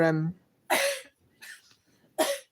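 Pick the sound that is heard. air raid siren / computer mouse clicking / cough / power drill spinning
cough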